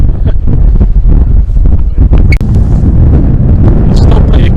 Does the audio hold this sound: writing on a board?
no